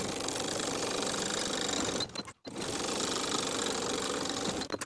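A sewing machine stitches the shoulder seams of a satin blouse, a steady rapid mechanical whir with one brief pause midway before resuming, ending with a short stop.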